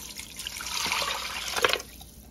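Water poured into a pot of bouillon cubes to make broth, a short splashing pour that swells and gurgles before tapering off, close and fairly quiet.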